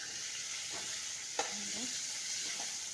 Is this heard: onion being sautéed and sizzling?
yes